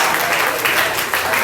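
A comedy show audience applauds, with steady clapping throughout and loud crowd noise that holds through to the end.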